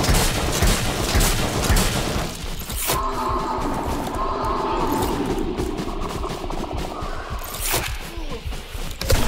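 Shotgun blasts in the dinosaur game Creatures of War, a few heavy booming shots spread across chaotic, noisy action with rumbling and clatter between them.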